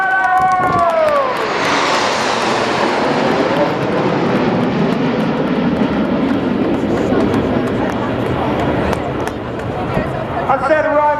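Royal Air Force Aerobatic Team (Red Arrows) jets roar loudly over a crowd at the 2024 Royal International Air Tattoo, a sustained broad jet rumble sweeping past, with a public-address announcer talking over it.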